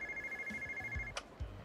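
A ringing mobile phone carried in a shoulder bag in Yakuza 0 chimes as a steady, moderately loud electronic ring over low game ambience, ending with a couple of soft thumps.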